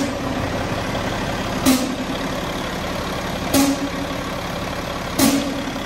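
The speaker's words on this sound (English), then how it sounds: "For some reason, the truck is making kind of a weird noise" A farm truck engine with a fault that keeps it from building air pressure idles steadily, broken by three sharp sneezing puffs at roughly even intervals, close and fairly loud.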